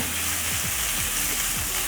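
Pieces of beef liver fry in a hot pan while being stirred, giving a steady close sizzle and hiss with a few faint scrapes of the utensil.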